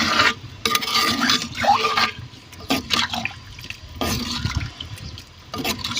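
Water pours and splashes into a cooking pot of country chicken soup, loud and close, surging in uneven bursts with brief pauses between pours.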